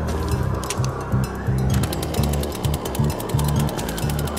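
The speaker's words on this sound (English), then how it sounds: "So the game is over, but I've picked up a chainsaw." A chainsaw in the VR game Sharknado VR: Eye of the Storm runs steadily with a rough, pulsing low drone, its rhythmic revving surges repeating through the whole stretch, fairly loud and close with no talk over it.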